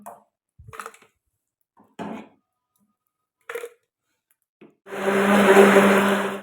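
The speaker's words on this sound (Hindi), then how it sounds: "और अब हम इसकी ब्लेंडर के अंदर पिसाई करते हैं" A blender grinds Lahore-style chicken haleem ingredients: a few scattered knocks and handling sounds come first, then a loud, steady motorised whir runs for about a second and a half at the end.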